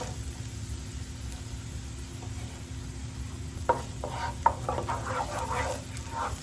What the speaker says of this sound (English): I'm going to go ahead and add my chopped garlic